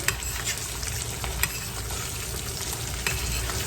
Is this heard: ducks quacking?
no